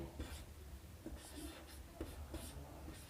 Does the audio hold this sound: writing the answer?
yes